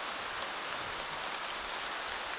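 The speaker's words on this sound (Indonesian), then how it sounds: "Angin kencang seperti ini." Strong wind roaring through a forest before a storm, a dense, steady broadband rush like heavy rain or rushing water, loud and unbroken throughout with no voices.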